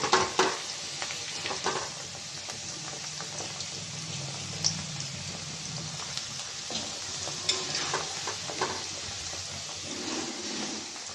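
Potatoes fry in a pan with a continuous oily sizzle, joined by occasional scraping stirs and clinks of the spatula.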